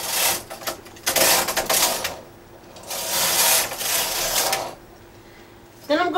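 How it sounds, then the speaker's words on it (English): A domestic knitting machine carriage sweeps across the needle bed twice, knitting two rows of zig zag fabric, loud close mechanical whirring and clattering in two long passes separated by brief pauses, with a quiet voice faintly present. "So now I'm going to knit two rows."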